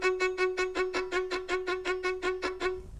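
A bowed string instrument plays straight repeated sixteenth notes on one pitch without left-hand finger cueing. The strokes are even and steady, close and solo, with about sixteen clean pulses.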